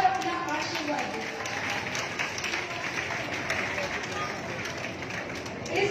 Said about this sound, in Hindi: आप सभी से निवेदन है कि प्लीज तालियों के साथ बच्चों का स्वागत करें